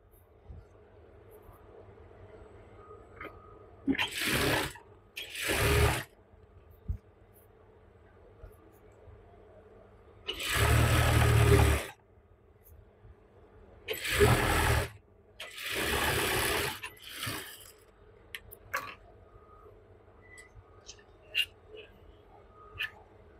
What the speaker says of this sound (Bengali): হ্যাঁ, আমি একটা সেলাই দিয়ে আপনাদের সহজে দেখিয়ে দিতেছি